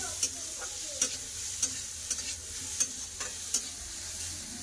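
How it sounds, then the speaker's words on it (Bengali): Onion and green chili sizzle gently in a pan, with a spatula tapping and scraping at a steady, roughly regular pace. "একটু ভালো করে ভেজে নেবো, মানে একদম ভাজবো না,"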